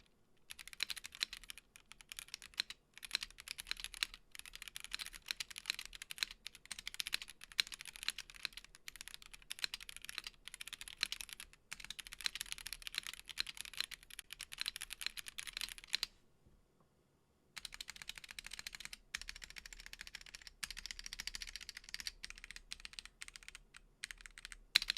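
Steady typing on a foam-filled acrylic mechanical keyboard with yellow switches and silicone jackets, a soft, muted clatter of rapid keystrokes that runs continuously, pauses for about a second, then resumes, quiet and close with no voices.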